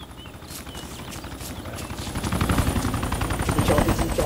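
A helicopter in the DayZ game passes overhead, its rotor chop a rapid rhythmic thudding that grows louder as it draws nearer and stays close and steady.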